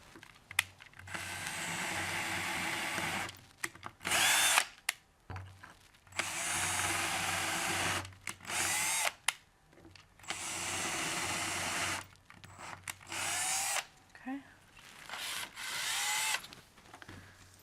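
A cordless power drill drives screws into wood, sounding in several close, loud whirring bursts of one to two seconds with short pauses and handling clatter between them.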